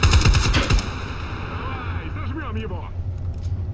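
A short burst of rapid gunfire opens the scene in S.T.A.L.K.E.R.: Call of Chernobyl, loud and close at first and stopping within a second. Quieter game ambience and rattling sounds follow.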